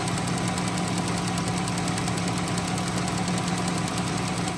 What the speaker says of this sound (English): I noted a faint tick coming from the engine compartment.